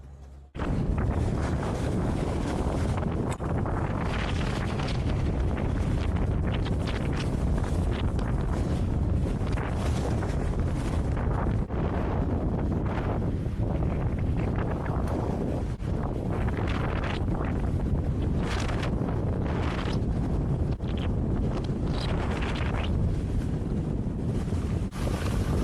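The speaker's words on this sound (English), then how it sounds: "It's a little bit windy, not a little bit, but it's blowing really hard." At Palisades ski resort (Squaw Valley), strong wind hits the microphone with a loud, continuous roar. Heavy gusts buffet it throughout with no letup, and no one talks.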